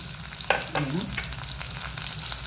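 Garlic cloves hit hot oil in a pan for a coastal Karnataka colocasia stem curry, giving a steady close sizzle with a quick stirring scrape.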